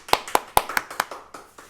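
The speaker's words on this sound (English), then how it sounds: "Round of applause for Max Hood." A handful of hand claps, about eight sharp separate claps over under two seconds, welcoming a guest to an artist interview show; close and fairly sparse, with no talking.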